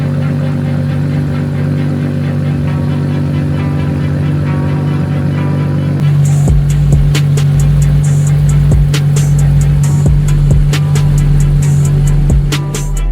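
A straight-piped Nissan Skyline R33 engine drones at a steady idle, then at about six seconds rises sharply and stays loud and close, with repeated sharp crackles and pops over the tone.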